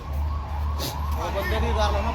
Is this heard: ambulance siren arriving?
yes